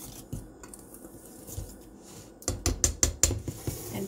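A whisk stirs flour, baking powder, baking soda and salt in a bowl, with soft scraping at first and then a quick run of sharp clicking taps against the bowl near the end.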